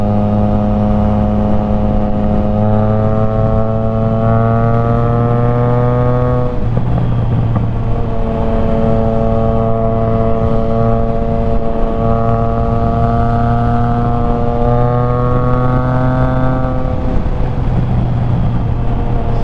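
Triumph Trident 660 motorcycle with a Firetong full exhaust while riding: a loud, steady engine drone with rising and falling revs as it accelerates through gears, continuous and close.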